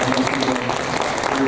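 A congregation at a Sunday church service gives a short burst of applause, a brief wash of clapping that runs under a voice speaking.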